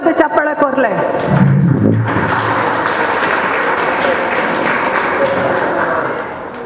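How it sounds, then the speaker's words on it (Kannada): An audience at a community association's 60th annual general meeting bursts into sustained applause after a voice speaks briefly at the start, the clapping holding steady for several seconds before easing off. "ಎಡೆ ಮಾರ್ಕ್ ಇದೆ ಜೋರದು ಚಪ್ಪಾಳೆ ಕೊರ್ಲೆ."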